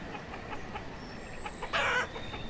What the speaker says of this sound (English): These are chickens. Our chickens will give us poultry and, well, give us eggs.